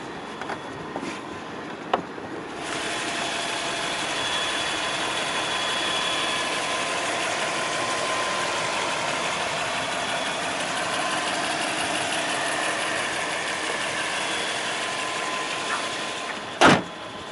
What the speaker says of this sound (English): Hear the engine purring away.